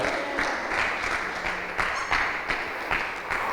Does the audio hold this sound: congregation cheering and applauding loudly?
yes